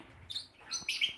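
Faint, high tweeting chirps come from a nest box holding five newly hatched chicks, a few short calls in quick bursts at close range with no talking.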